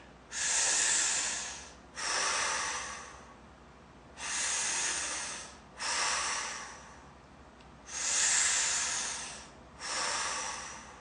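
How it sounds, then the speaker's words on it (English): Six slow, deep breaths through the nose, close and airy, each a rushing hiss of a second or more separated by short quiet pauses, with no talking. "And I'm just going to breathe."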